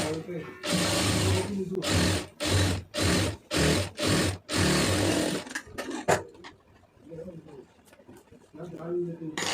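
A sewing machine stitches lining fabric for a puff sleeve in a rapid run of short, rhythmic bursts with brief pauses, loud and close, followed by quieter handling noises.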